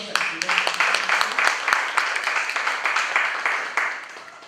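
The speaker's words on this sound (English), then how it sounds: "Another round of applause." A crowd at a university business symposium claps for a professor, with a dense round of applause that starts loud, holds steady and then slowly fades.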